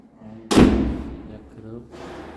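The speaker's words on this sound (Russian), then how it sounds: "Включай счетчик, закрывай двери." An apartment door in a Turkish property in Alanya slams shut with a single heavy thud close by, its boom fading out, with faint sound following.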